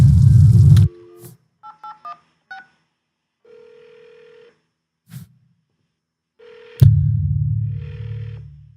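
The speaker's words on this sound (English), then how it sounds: "So, all right, Lily, we're about to call Mark and see if we can get him on the phone" A telephone number is punched in on a phone for a radio call, a quick series of short DTMF keypad tones spaced unevenly. A steady line tone follows, set between louder bursts of background sound.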